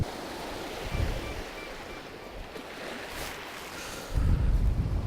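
Waves wash onto a shore with a steady broadband rush, swelling near the start and surging louder at the end, with wind buffeting the microphone.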